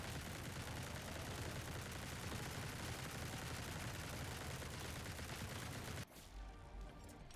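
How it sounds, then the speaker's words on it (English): Dense, continuous rapid gunfire from the survival shooter Grind Survivors, a steady stream of overlapping shots at constant level for about six seconds before cutting off abruptly to quieter game sound. "We just now shoot out twice as many bullets."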